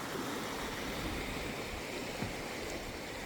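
The Mahakali river rushes beneath a long bridge at Dodhara Chandani in Nepal, a steady broadband roar of flowing water with a faint, even hiss and no voices.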